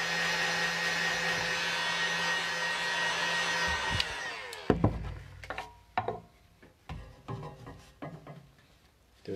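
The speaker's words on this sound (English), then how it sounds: "but heat gun is much faster" A heat gun blows hot air over a cracked mirror-shine finish, giving a steady loud whirring hiss with a constant tonal hum for about four seconds before it cuts off, followed by scattered handling knocks and taps.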